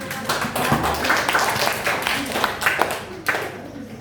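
A classroom group claps for a group of students during a microteaching lesson, with a steady patter of hands lasting several seconds and a voice talking over it.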